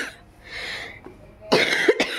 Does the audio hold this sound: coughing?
yes